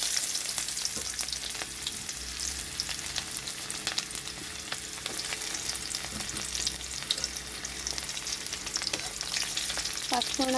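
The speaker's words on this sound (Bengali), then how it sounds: "এখানে দিয়ে দিচ্ছি পেঁয়াজ।" Sliced onions fry in mustard oil with panch phoron, a loud, steady close-up sizzle that fills the whole stretch, dotted with small crackles and occasional stirring clicks, with no voices.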